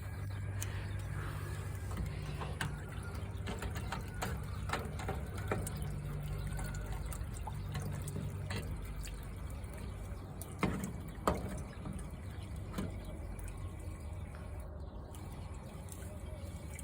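Water pours steadily into a desert cooler, a quiet continuous trickle and splash with a few clunks and occasional voices in the background.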